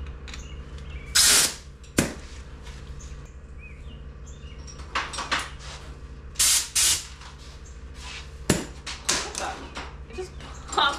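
Several short bursts of spray gun hiss on a 1932 Ford pedal car restoration, each about a second, over a steady low compressor hum, with a few sharp clicks between them.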